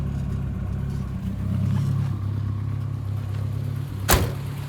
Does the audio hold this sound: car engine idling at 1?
yes